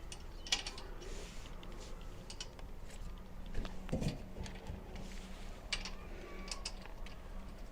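Metal washer and cotter pin being fitted onto a wheel of a FIRMAN 3550 portable gas generator, model P0350, faint close clicks and small metallic taps scattered over quiet handling noise.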